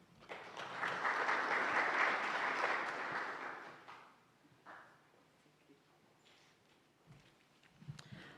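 Audience applause at a nutritious food project closure event swells for about four seconds, then thins out into scattered faint claps and rustling in a quiet room.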